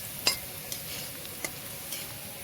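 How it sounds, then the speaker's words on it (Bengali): Garlic fries in a wok with a low, steady sizzle of oil and a few light scrapes and taps of a spatula, close but fairly quiet. "দেখুন আমাদের রসুনটা খুব ভালো করে ভাজা হচ্ছে।"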